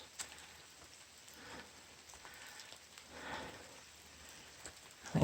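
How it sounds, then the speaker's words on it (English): Rain patters softly and steadily in the woods, a faint, diffuse hiss with a slight swell partway through and a brief louder knock right at the end. "And it is raining in the woods."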